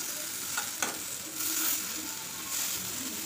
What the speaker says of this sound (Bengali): বেগুন ভাজা করে নিচ্ছি